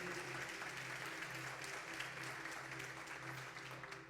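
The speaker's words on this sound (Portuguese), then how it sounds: "Pode aplaudir a Ele com alegria." Church congregation applauding with joy during an afternoon worship service, an even, continuous wash of clapping over a held low keyboard chord, heard from a distance.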